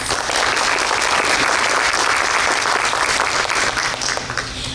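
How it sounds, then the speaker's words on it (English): An audience applauds the participants of a Distinguished Young Women program, loud dense clapping from a large crowd held steady for the whole span. "Let's give our participants another round of applause"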